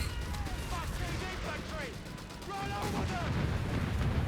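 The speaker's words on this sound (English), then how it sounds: "This is the artillery cover ability. Barraging any enemy units in this territory." Artillery barrage in the real-time strategy game Company of Heroes 3, an artillery cover ability shelling a territory, with repeated booming blasts and rumble under steady background battle noise while a voice talks over it.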